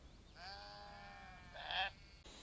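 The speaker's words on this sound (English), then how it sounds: "Sheep farms make sheep noises." Sheep bleating in the farm ambience of a train video game: one long, clear, steady bleat with a second harsher bleat following, mid-distance and alone without talk.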